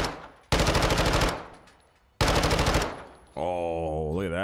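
A machine gun in Modern Warfare 2 fires two loud sustained bursts, each fading off, followed by a whirring mechanical reload sound.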